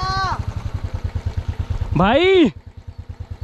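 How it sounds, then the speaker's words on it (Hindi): A motorcycle engine idles close by with a steady, loud, rhythmic low thumping throughout, while a voice speaks briefly over it near the start and a longer call rises partway through. "वो बाइक बंद कर, आवाज नहीं आएगी"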